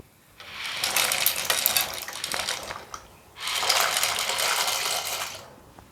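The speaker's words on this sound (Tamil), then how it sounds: "இந்த நேரத்தில் நம்ம மேக்கரோனியை ஆட் பண்ணிப்போம்." Dry macaroni is poured into a pot of boiling water in two bursts, a rattling, splashy pour lasting a few seconds each, separated by a short pause.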